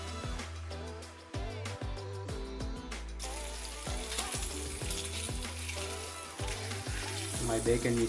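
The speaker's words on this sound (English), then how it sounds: "Now I am going to cook bacon for my mash avocado." Bacon sizzling and frying in a pan: a dense, continuous crackling sizzle runs throughout, with rhythmic low thumps in the first half and occasional utensil clinks, close and moderately loud.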